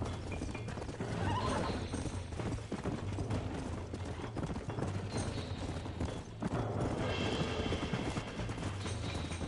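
A horse in the Red Dead Redemption video game neighs and whinnies while its hooves clip-clop steadily, set against a dense, continuous game soundscape.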